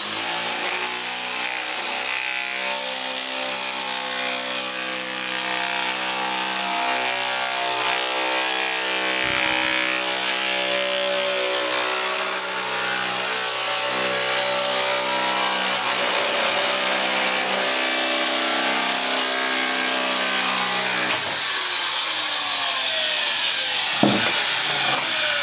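A power tool cuts sheet metal along a marked line for metal shaping, a steady, loud whining drone that runs for about twenty seconds before winding down, followed by a couple of sharp metallic clanks.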